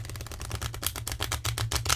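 A Hanson-Roberts tarot deck is riffle-shuffled, giving a rapid, close series of crisp card clicks and flutters lasting about two seconds, with no voices.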